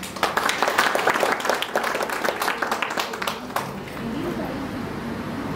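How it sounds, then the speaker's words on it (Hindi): Indoor audience at a Brahma Kumaris centre program clapping for themselves, a few seconds of scattered, brisk applause that fades out into a quiet room with a faint voice. "इसके लिए आप खुद ही अपने लिए ही ताली बजाएं।"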